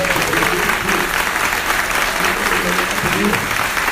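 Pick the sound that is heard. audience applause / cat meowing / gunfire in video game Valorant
audience applause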